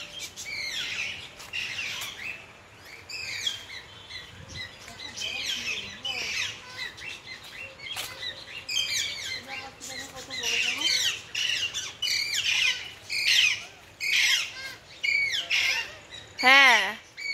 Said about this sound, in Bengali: প্রচুর টিয়া পাখি রয়েছে এইখানটাতে